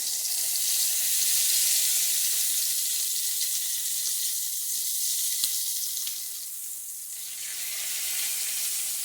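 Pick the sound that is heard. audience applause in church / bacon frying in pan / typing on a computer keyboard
bacon frying in pan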